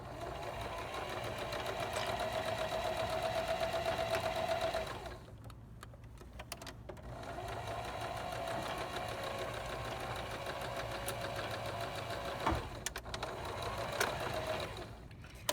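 A sewing machine runs a wide seam on band PPE, a steady close mechanical whirring hum in two long runs separated by a short pause, with a faint click near the end.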